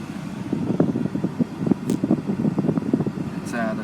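A car engine idles steadily at about 1,000 RPM on polyurethane solid engine mounts, a continuous low rumbling hum with pulsing firing beats, heard close and fairly loud throughout.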